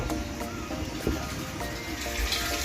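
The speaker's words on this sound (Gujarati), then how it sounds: "ફાઇનલી મૂકી દીધી છે મોટર ને પાણી આવવા માંડ્યું છે" Water from a pump motor pours steadily into a large container being filled, a continuous close splashing gush with no pauses.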